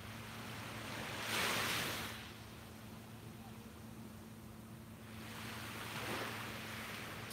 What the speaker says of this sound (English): The water's nice and calm, but we can still hear the waves